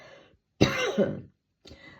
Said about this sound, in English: this cough that seems to never end